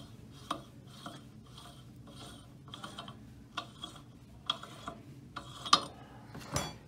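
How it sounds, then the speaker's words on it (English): A lock nut is worked off a split block with a ratcheting wrench, producing a regular series of quiet metallic clicks and ratchet strokes, about one every half second, alone and close by. "Now we'll remove the nut."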